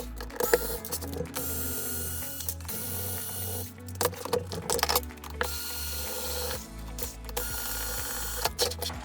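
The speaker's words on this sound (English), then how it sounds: "So you use a low power screwdriver to remove the screw." Low-power screwdriver backing screws out of a 36V Ansung battery pack with damaged threads, giving close, loud mechanical whirring and ratcheting bursts that start and stop several times, with no talk.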